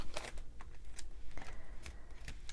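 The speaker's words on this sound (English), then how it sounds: "I'm going to go ahead and take everything out of my cash envelopes." Paper cash envelopes are emptied of cash, giving soft rustling and shuffling of paper and bills with a few crisp flicks, close and quiet with no talking.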